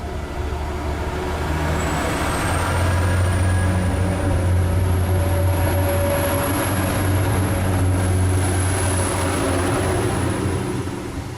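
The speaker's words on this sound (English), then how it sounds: "And on the other line, a service train going north." Northbound passenger service train passing on the far line of a UK station, a continuous low rumble and rolling wheel noise holding steady for several seconds, with a high whine of the train drawn out above it.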